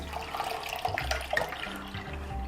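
Creamy liquid, milk being made into yoghurt, pouring from the spout of a pot, a continuous splashing trickle that is fairly close and carries on without a break, with no voices.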